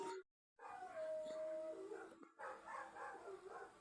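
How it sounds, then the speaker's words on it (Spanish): A dog barks and howls repeatedly somewhere nearby, drawn-out cries and yelps carrying over a noisy background, with a short gap of silence early on and people talking around it. "Eso no es normal que un perro esté ladrando tanto."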